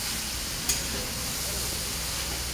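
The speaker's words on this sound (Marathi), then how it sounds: "तुपामध्ये छान परतून घ्यायचं सगळं।" Carrot halwa fries in ghee in a pan, producing a soft, steady sizzling hiss throughout, broken once by a single light scrape of the stirring spoon.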